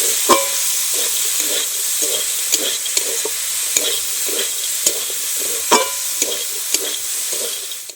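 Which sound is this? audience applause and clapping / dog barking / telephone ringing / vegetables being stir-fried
vegetables being stir-fried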